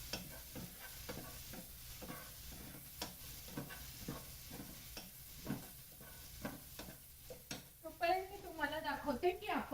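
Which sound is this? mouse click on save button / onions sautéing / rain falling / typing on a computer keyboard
onions sautéing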